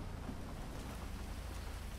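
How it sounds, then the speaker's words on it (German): Heavy rain in the video game GTA V, a dense, steady hiss of downpour close by with a low rumbling undertone and no talking. "Boah, hier, es regnet so krass gerade."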